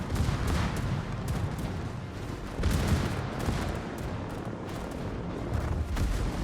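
Warship secondary guns in World of Warships fire a dense barrage of booming shots, rolling in close succession with heavy low rumble throughout, loud and without speech.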